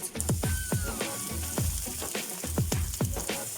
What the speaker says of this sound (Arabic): هنزل عليها بزيت ذرة بس كتير شوية. بعد كده هنزل بشرايح البصل رفيعة خالص